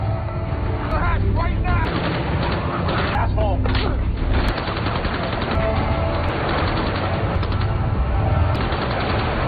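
Dense, continuous gunfire roars through a loud action scene, with rapid shots blending into heavy, chaotic noise.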